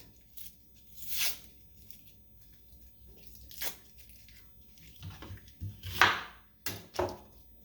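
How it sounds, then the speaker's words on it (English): Onions chopped with a knife in a home kitchen, a handful of separate crisp slicing crunches and board taps spaced irregularly over quiet background, each cut short and close. "So I'm cutting the onions now."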